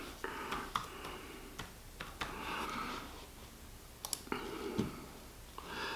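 Keys clicking on a computer keyboard as an amount is typed in, a few quick taps scattered through a quiet room, near and fairly soft with no one talking.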